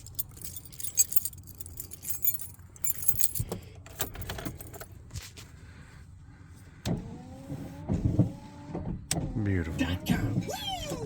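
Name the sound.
new wiper motor running wipers on 88-98 Chevy C/K 1500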